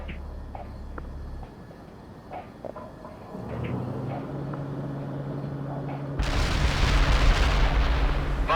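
Artillery shells burst in the World in Conflict video game, a low rumbling boom swelling mid-clip before a loud, harsh blast near the end over a steady low battlefield drone.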